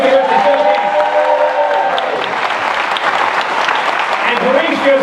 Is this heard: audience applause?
yes